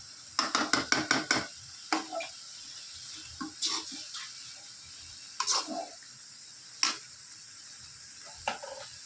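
A spoon clatters against a pan while sautéing chicken gravy with spice powder: a quick rattling run of metallic scrapes and taps at the start, then scattered single knocks over a steady low sizzle.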